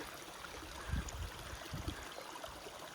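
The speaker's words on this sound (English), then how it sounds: "So the spring's running good" Mountain spring water runs steadily from a pipe on a hiking trail, making a soft, continuous trickle with faint low splashes.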